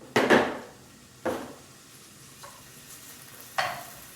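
Small pieces of bacon fry in a pan, with bursts of sizzling and stirring at uneven intervals: a strong double burst, then weaker ones, over a quiet background.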